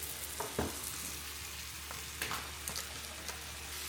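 Pork fries in a hot pan for Asian noodles with a quiet, steady sizzle and a few sharp pops and stirring knocks, with no one talking.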